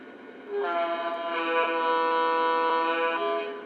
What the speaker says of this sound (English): Let's hear how the horns sound.